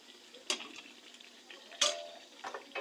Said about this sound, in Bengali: এবার আলুগুলো এর মধ্যে দিয়ে দিচ্ছি।